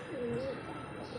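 Domestic pigeons cooing close by in a loft setup, soft rolling coos carried over a continuous murmur of other birds.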